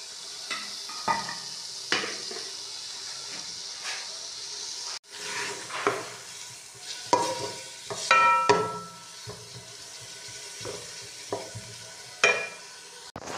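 Onions sizzle and fry in ghee in a cooking pot, with a steady hiss and repeated scraping stirs and clinks of a spoon against the pot.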